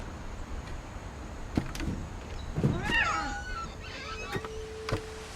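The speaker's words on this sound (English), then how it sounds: "I hear a cat." A cat in the video game What Remains of Edith Finch lets out a couple of short, bending meows amid scattered clicks and knocks against a quiet ambient backdrop.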